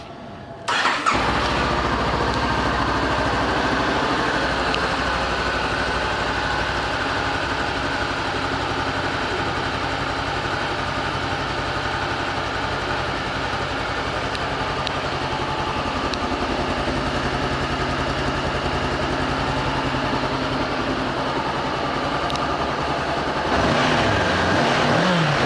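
A 2016 Honda CB500X motorcycle engine starts and settles into a steady, close idle, running evenly throughout with no talking.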